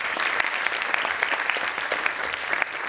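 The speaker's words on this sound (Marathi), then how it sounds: "भारताच्या कार्यासाठी टाळ्या झाल्या पाहिजेत." Steady audience applause fills the room, dense continuous clapping with many overlapping hand claps at even loudness throughout, no voices over it.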